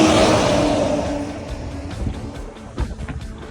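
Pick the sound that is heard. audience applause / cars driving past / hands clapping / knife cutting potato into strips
cars driving past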